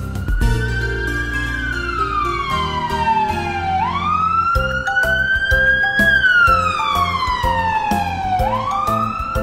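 Loud wailing ambulance siren sweeping up and down in long slow cycles, with a steady pulsing horn pattern underneath, close and continuous.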